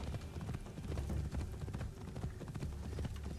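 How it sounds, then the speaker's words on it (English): A horse gallops in the Assassin's Creed Shadows video game, its hooves drumming in a steady, continuous rhythm over a low rumbling game background, moderately quiet throughout. "Ride, Kiri"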